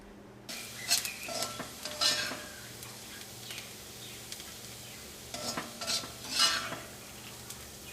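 A spoon stirs Kerala papaya erissery in a pan, giving several distinct scraping and clattering strokes in bursts over a soft background hiss, fairly faint and close, with no talking.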